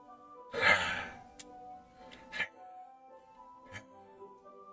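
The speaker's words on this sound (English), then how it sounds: "It sounds like very disturbing and British-sounding breathing." Breathing in Doki Doki Literature Club Plus: a heavy, close sigh-like exhale followed by quieter sharp inhales and breaths, spaced out over a faint humming background.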